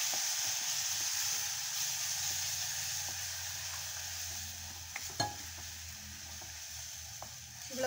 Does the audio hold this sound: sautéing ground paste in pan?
yes